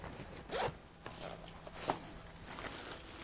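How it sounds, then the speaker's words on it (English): A zipper on a waterproof awning storage bag for a Toyota Sienna camper is drawn in a few quick, close rasping pulls, with light handling rustles between them. "It zips up."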